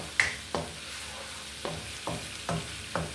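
Fried rice being stir-fried in a wok, with a spatula scraping and tossing in sharp, evenly spaced strokes about every half second over a low, steady sizzle, close up and without talk.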